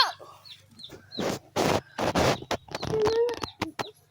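Chickens cluck in short bursts and scattered pecking sounds, close by, with a few sharp higher calls mixed in.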